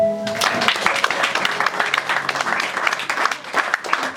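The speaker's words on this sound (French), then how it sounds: "Est-ce qu'on peut acclamer pour Dieu?" A church congregation applauding during a Sunday worship service, a dense sustained wash of many hands clapping close by for several seconds without pause.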